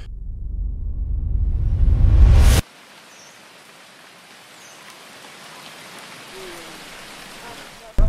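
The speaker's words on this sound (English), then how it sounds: "It's not raining, it's hailing." Hail falls during a hike in Ethiopia, a dense, steady patter on the ground and surroundings, close and continuous after a loud rumbling opening that cuts off abruptly.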